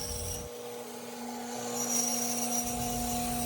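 A bandsaw fitted with a circle-cutting jig feeds into a piece of wood, giving a steady, quiet motor hum with a faint rising rasp of the blade through the cut.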